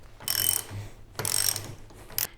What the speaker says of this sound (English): gonna loosen up this pinch bolt here at the top